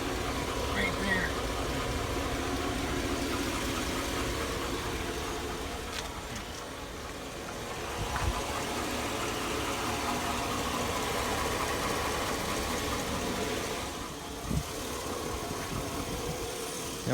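A 2002 Chevy Avalanche 1500 with a 5.3L V8 idles nearby with an abnormal engine noise, a steady low rumble and hum throughout, with a few faint knocks and clatters.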